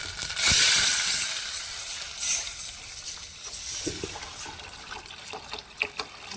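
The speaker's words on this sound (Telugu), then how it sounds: "దీంట్లో వాటర్ వేసేస్తున్నానండి" Water splashes loudly into a pot of chicken curry at first, then keeps trickling and sloshing more softly, with a few light clinks near the end.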